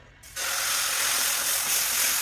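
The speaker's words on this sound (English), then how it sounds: "Sizzling sound." Loud, steady sizzle of dosa batter hitting a hot 14-inch IMUSA griddle, starting abruptly after a brief quiet moment and continuing as a dense hiss.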